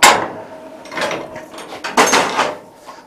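A hammer striking hot metal while forging a butt-welded ring, a few ringing blows spaced irregularly, the first loudest, close and bright with decaying metallic tails.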